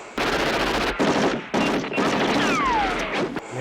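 Machine gun fire from the 1986 film Big Trouble in Little China comes in dense, loud sustained bursts of rapid shots, with short gaps between volleys and a ricocheting whine near the end.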